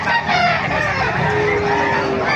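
Chickens clucking loudly nearby in a busy flock at a market in Bocaue, with a rooster's drawn-out crow rising over the clucking.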